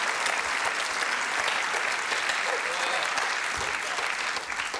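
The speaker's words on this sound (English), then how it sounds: "a special round of applause for who I presume is the inevitable winner" A studio audience at a comedy panel game show applauds for Tim Key, a steady, dense round of clapping that fills the whole stretch at an even level with no talk over it.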